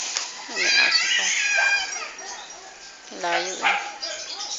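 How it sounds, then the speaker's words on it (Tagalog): A dog barks several times in an outdoor setting near a semi-mountain bike, with sharp yelps mixed among people talking and children's voices close by. "May aso pa."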